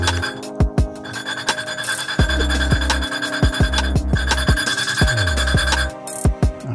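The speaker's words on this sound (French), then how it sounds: "Ça a poncé le contact entre la soupape et le siège de soupape." An engine valve is lapped onto its seat in a cylinder head with coarse grinding paste, giving rapid back-and-forth gritty rasping with sharp ticks, close up and continuous with short breaks.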